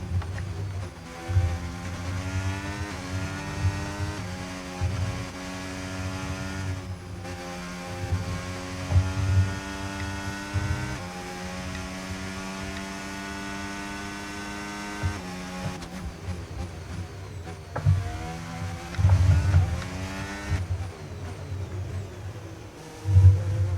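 Racing car engine in the F1 25 video game, a continuous high, harmonic engine whine that rises and falls through gear changes as the car races, steady and prominent throughout with no talk.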